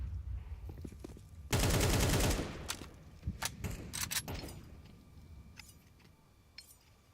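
Short burst of SMG gunfire in Counter-Strike on the Inferno map, a loud dense rattle lasting about a second, followed by scattered single shots, shell clinks and faint crowd ambience.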